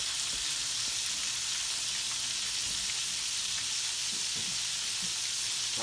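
Breaded chicken gizzards fry in hot oil, a steady dense sizzle and crackle that runs unbroken throughout, close and even with a few faint knocks underneath.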